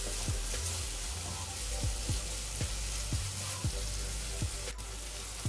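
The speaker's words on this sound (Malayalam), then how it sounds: "നമ്മുടെ സവോളയൊക്കെ നന്നായിട്ട് വാടി വന്നിട്ടുണ്ട്" Sliced onions sauté in a pan with salt for chickpea masala, sizzling steadily up close while a spatula scrapes and stirs in a regular rhythm of about one stroke per half second; no voices.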